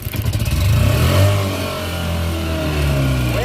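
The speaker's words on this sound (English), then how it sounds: "Grab your recoil starter and give it a pull." A Tohatsu outboard engine catches after a recoil starter pull, sputtering pulses at first, then a loud close revving drone that steadies into a running hum.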